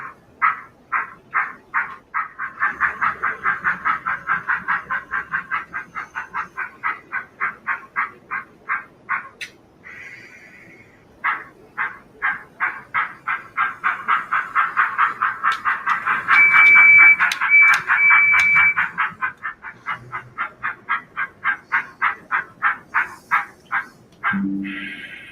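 A Bachmann DCC Thomas the Tank Engine model train sound chip plays rapid rhythmic chuffing in repeated runs, loud and close, with a whistle-like tone partway through and brief pauses between bursts.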